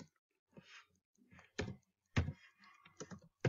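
Bursts of keyboard typing, close and fairly quiet, in irregular clusters of clicks with short pauses between them.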